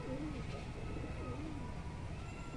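A home-bred female pigeon in a loft gives a few soft, low, rolling coos close by, over a faint steady background hiss.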